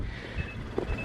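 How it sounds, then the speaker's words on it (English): A Mazda CX-5 2.0 SKYACTIV-G gives a thin electronic warning beep because its key has been carried away from the car, a faint high tone heard twice over light outdoor wind noise. "car just bleeping at me to let me know I've walked out the car with the key in my pocket"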